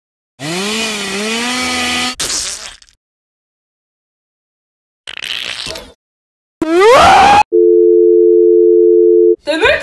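Several loud, buzzy chainsaw-like revving bursts with rising and falling pitch, separated by silences, then a steady electronic tone.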